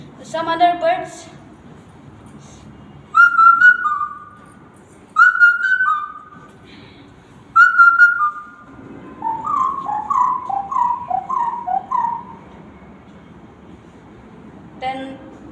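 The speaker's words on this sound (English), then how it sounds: "Then some other birds." Whistled bird-like calls come in several short, clear bursts, then a quicker warbling run, with a brief voice-like sound at the start and end.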